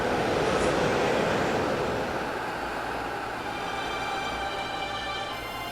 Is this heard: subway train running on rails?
yes